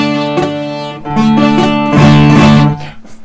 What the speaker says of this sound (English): So those are ways to make a buzz.